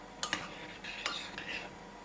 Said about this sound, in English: we'll just give that a quick stir